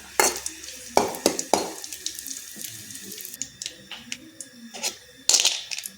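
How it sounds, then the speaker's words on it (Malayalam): Cashews frying in a pan for Vishu payasam: close kitchen clatter with repeated sharp scrapes and stirring knocks over a low sizzle, several louder spoon strikes at irregular intervals. "അതിൻ്റെ കൂടെ കാഷ്യൂ ഇട്ടിട്ട് നന്നായി ഒന്ന് വറുത്ത് കോരിയെടുക്കുക."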